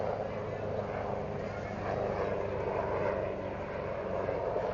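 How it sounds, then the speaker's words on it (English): A helicopter flies nearby during a beach parade event in Rockaway, New York City, its steady rotor drone lasting throughout beneath nearby crowd murmur and voices. "Now I hear a helicopter."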